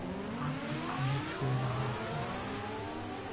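Vintage Formula 1 race car engines in a racing video game rev and shift at a moderate distance, with rising and falling whines from several cars overlapping at a steady, moderately quiet level.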